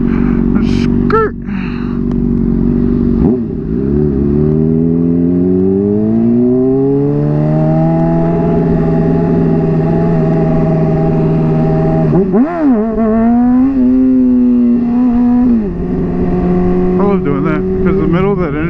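A motorcycle engine revs up and drops back as it shifts through gears on a ride, loud and close, with rising and falling engine whine that swells at several points across the clip.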